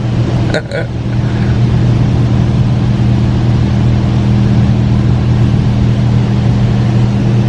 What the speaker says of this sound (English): Car washes are always so mesmerizing to me.